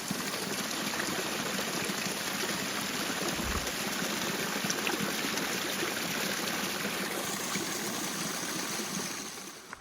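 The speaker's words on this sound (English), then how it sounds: "And an even more beautiful river." A river flows steadily beside a newly built bridge, a continuous broadband wash of moving water running unbroken and fairly close.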